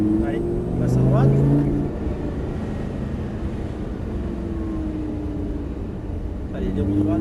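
A Lamborghini Gallardo accelerates around the Abbeville circuit, its engine a steady sustained drone with rising tonal sweeps, heard from inside the car with a voice speaking over it at times.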